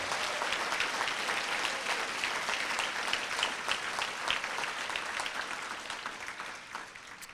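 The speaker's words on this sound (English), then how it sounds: "Let's have one more round of applause for all 32 site teachers of the year." Gala audience at the 2024 Broken Arrow Public Schools Star Awards applauding all 32 site teachers of the year, a full, even wash of clapping holding strong for several seconds before easing off slightly at the end.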